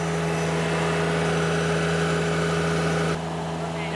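A tractor engine at full throttle drives the PTO pump of a sprayer, giving a loud, steady mechanical drone with a strong low hum that runs evenly and then drops slightly in level near the end.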